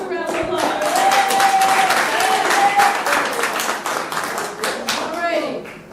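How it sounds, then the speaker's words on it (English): Audience applause for singers at an interactive vocal coaching session during a music industry symposium, a moderate burst of clapping with speech-like voices and a sustained vocal tone mixed in, fading toward the end. "Give them a round of applause."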